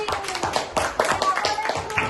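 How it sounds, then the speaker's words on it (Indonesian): A classroom of students claps in quick, fairly loose rhythm, the individual hand claps distinct and close, lasting a couple of seconds. "tepuk tangan sekali lagi"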